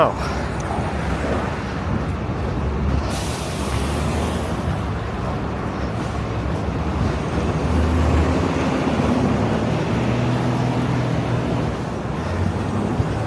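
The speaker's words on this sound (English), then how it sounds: "I don't think the trains are louder. I think there's just more of them." Broadband city street and roadway rumble on a Manhattan walking route, with low steady traffic and train noise filling the whole stretch and a voice talking over it.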